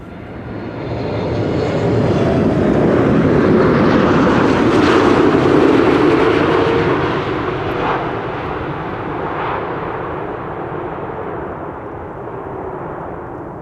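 A Cathay Cargo plane lands at Amsterdam Schiphol Airport: a loud, broad jet roar swells over several seconds, peaks, then fades to a steady rumble as it passes nearby, with no voices.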